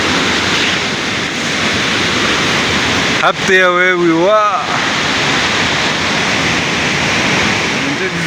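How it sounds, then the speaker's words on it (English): The Koromosho waterfall roars as a loud, constant rush of falling water close by, broken briefly in the middle by a person speaking over it. "Check out this waterfall."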